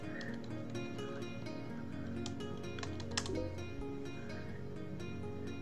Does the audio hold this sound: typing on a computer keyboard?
yes